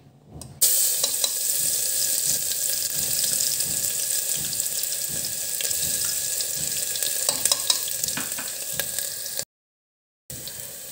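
Coarsely crushed garlic dropped into very hot mustard oil, bursting into a loud, steady sizzle and crackle of frying that holds throughout, broken only by a short silent gap near the end.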